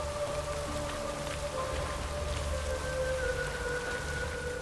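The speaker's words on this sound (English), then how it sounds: "Rains like this come sowing time." Steady rain hisses continuously in The Witcher 3: Wild Hunt, a dense even wash of drops with faint tonal ambience underneath and no speech.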